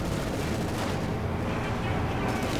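A StuG assault gun takes a hit in a Company of Heroes 2 battle, heard as a dense, continuous rumble of booming artillery and gunfire that stays loud and steady throughout, with no clear single impact standing out.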